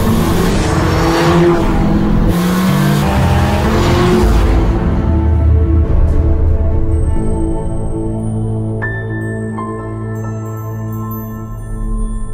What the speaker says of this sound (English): The Volkswagen GTI, pre-tuned by German engineers.